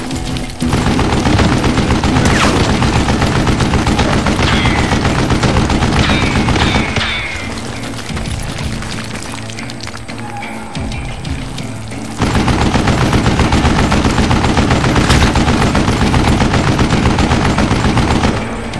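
Sustained, dense gunfire from Call of Juarez: Gunslinger, a Wild West shooter, rattles loudly and nearly nonstop, easing into a quieter stretch midway before the heavy shooting resumes.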